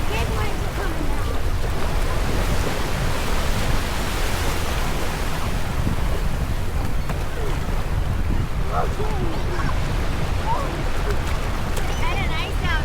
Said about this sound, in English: Alright, big waves are coming down.